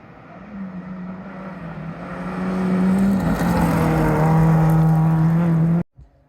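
A rally race car in Ontario approaches, its engine drone swelling from moderate to loud and holding a steady, rising pitch as it nears, then cutting off abruptly.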